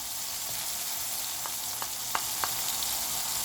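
Tomatoes fry softly in a pan with dry spices being added, a steady close sizzle broken by a few light taps of a utensil.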